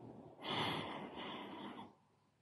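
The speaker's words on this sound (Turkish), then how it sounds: "5'e kadar sayana kadar derin bir nefes alınıyor ve yine 5'e kadar sayarak nefes veriliyor." One slow, deep breath taken during a breathing exercise, a steady airy rush close to the microphone lasting over a second before fading to quiet.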